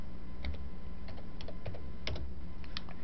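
Keystrokes on a computer keyboard as a short command is typed, a handful of separate clicky taps with pauses between them, close and clear over a quiet low hum with no talking.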